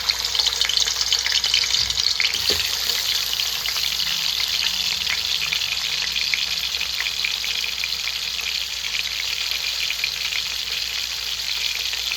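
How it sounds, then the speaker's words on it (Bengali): Rohu fish heads fry in hot oil in a wok, giving a loud, continuous sizzle with a brief clatter near the start and then an even crackle throughout. "এবার মাছগুলো আমি দিয়ে ভেজে নেব"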